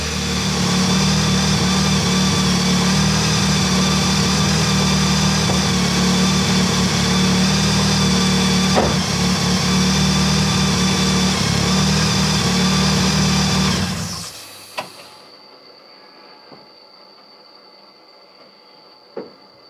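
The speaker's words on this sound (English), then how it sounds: "Everyone always seems to ask me if it's supercharged because of its little whine." A Vauxhall Nova's C20LET turbo engine idles steadily and loudly up close with a faint whine, then shuts off, leaving near silence broken by a few small ticks.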